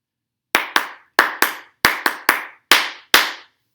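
Flat hand claps tap out a brief rhythm of nine crisp, close strikes in uneven pairs and singles, each decaying quickly, with nothing else heard.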